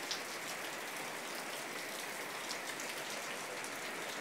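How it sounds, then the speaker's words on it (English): Heavy rain pours down in a steady, dense hiss, drops drumming on surfaces without a break, loud and enveloping with no voices present. "It's pouring rain."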